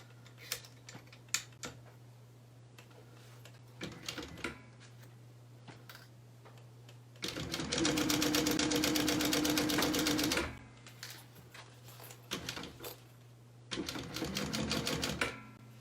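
Sewing machine stitching a Tiffany bag, running in two loud sustained bursts with quieter start-stop runs and clicks between them, heard close up with no talking.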